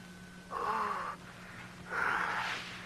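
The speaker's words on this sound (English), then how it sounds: "Some guy breathing heavily." Two slow, heavy breaths, each lasting under a second, sound muffled and thin as if over a phone line, with a low steady hum beneath.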